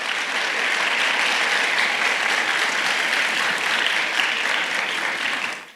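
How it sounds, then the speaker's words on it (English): Graduates at a high school graduation and transition ceremony give their parents a big round of applause, a loud, dense, sustained crowd clapping that holds steady for several seconds before fading at the end. "So kids, also want you to give your parents a big, big, big round of applause"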